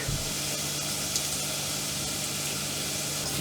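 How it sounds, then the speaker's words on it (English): Garlic and onions sizzle steadily in a frying pan for a bacon and mushroom risotto, a continuous bright hiss and crackle up close with no talking over it. "I love the smell of garlic when it just hits the pan"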